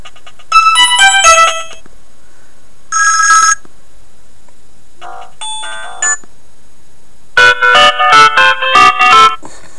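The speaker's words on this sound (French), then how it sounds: "par exemple une sonnerie, la sonnerie 1" Several short bursts of bright electronic phone ringtones play one after another, separated by silent gaps, loud and close.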